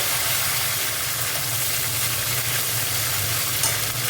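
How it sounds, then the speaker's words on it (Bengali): Ginger spice paste sizzling and frying in a pan while being stirred, a steady close hiss and crackle with no talk, for cauliflower and potato curry. "আদা দিয়ে দিলাম, আদা মশলাটা একটুখানি ভালো করে কষে নেব"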